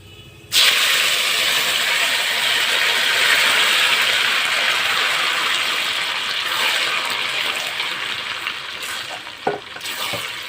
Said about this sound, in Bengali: কচুটাকে এবার নেড়ে নেব।